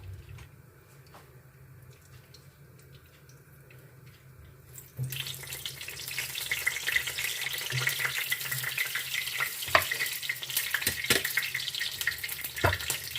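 Onion frying in lard for a pepper soup stays quiet and low at first, then bursts into a loud, crackling sizzle that carries on steadily with occasional pops and spatters close by.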